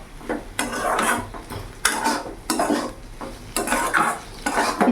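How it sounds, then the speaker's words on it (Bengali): A spatula scrapes and stirs okra masala fry in a pan in bursts of rhythmic metallic scraping with a faint sizzle underneath, close and fairly loud. "কিছুক্ষণ আমি এরকমভাবে নাড়াচাড়া করে আরেকটু রাখবো"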